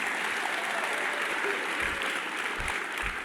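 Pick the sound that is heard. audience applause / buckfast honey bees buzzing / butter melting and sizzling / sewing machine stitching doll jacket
audience applause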